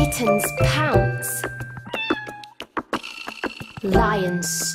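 A kitten meows several times in short, high, bending cries, with brief clicks and light rustling between them.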